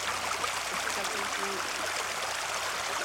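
A river on Dartmoor flows past stepping stones, giving a steady broadband rush of running water close by, constant throughout with no clear speech.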